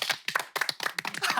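Short burst of audience clapping on a Korean military-themed TV talk show, close and uneven, with voices mixed into the brief applause.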